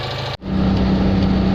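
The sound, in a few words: Citroen 2CV engine running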